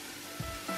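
Chicken fillet fries in a Zepter pan with a steady, close hiss of sizzling fat, and two soft bumps rise briefly over the constant crackle.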